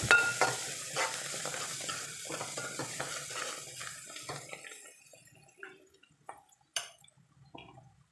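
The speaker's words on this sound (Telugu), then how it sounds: "మెంతికూర బాగా వేగిపోయింది" Fenugreek leaves with turmeric are stirred in a hot pan, giving a sizzle and rhythmic scraping taps that fade to sparse, quieter clinks toward the end.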